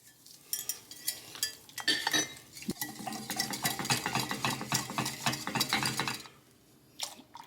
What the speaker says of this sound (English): And we're going to fold the miso in.